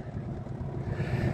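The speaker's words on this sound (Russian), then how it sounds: "Мы на воде, прогреваем мотор." Low, steady rumble of a boat engine idling on the water while warming up, continuous and close, with some wind noise over the microphone.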